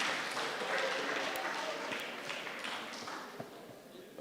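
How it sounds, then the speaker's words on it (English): Audience applause at a joint external evaluation meeting, a dense wash of clapping that starts full and gradually thins over a few seconds. "A round of applause."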